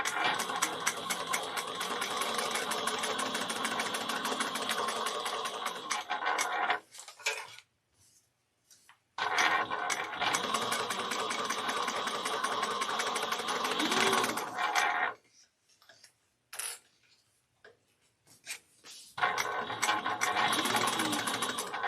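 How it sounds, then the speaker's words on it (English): Sewing machine basting two fabric pieces together for a Kandu bag, long steady runs of rapid mechanical stitching close by, broken by a few brief pauses and short stop-start bursts. "we're going to baste these two together"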